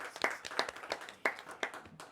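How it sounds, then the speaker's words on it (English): A small scattered round of applause at a school quiz bowl competition, a handful of people clapping unevenly for about two seconds, fairly quiet and not in sync. "Give yourselves a round of applause."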